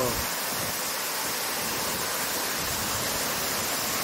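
Chinna Suruli Falls roars as water pours down from above, a dense, steady rushing wash at full loudness with no break and no voices.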